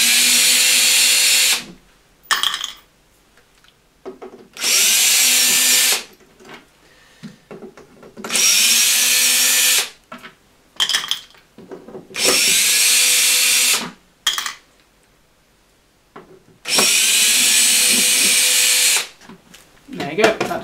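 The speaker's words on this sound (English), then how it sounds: "DeWitt electric screwdriver. Makes light work of it really. Take out these 8 screws." Electric screwdriver whirring out the chassis screws of a Marshall Valvestate S80 amplifier, loud close bursts of a few seconds each repeated about five times, with pauses between and someone talking.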